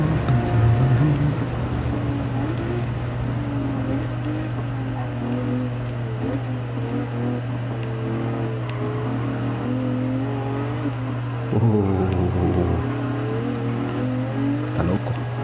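A Lamborghini engine in Gran Turismo 7 hums and revs steadily through corners, its pitch rising and falling, then surges hard near the end. Voices and music mix in faintly behind it.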